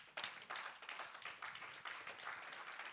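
A church congregation claps along steadily, quick overlapping handclaps that continue without pause, fairly distant and moderately quiet in a large room.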